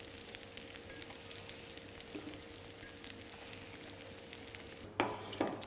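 Chestnut gnocchi frying in a pan, a soft, steady sizzle that holds evenly throughout, with a couple of louder clatters of the pan or utensil toward the end.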